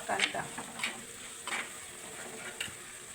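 Grated coconut roasting in coconut oil in a pan gives a faint, soft sizzle broken by four or five short scraping bursts of stirring, close by and quiet.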